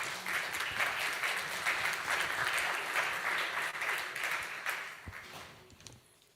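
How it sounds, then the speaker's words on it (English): A conference audience at a serverless-computing event applauds a speaker with a full, steady burst of clapping that thins out in the final second or so. "A huge round of applause for Marco"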